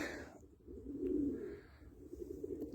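A white Istanbul pigeon gives a soft, low coo that swells and fades over a couple of seconds, close but quiet, with faint background rustle.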